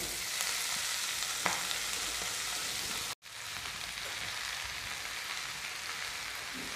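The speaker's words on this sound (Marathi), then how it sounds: "आता आपण जी भाजी धुवून घेतलेली आहे ती तेलामध्ये टाकूया" Washed fenugreek leaves hit hot oil in a kadhai with a steady, crackling sizzle that fills the space, pausing only briefly once before resuming at the same even level.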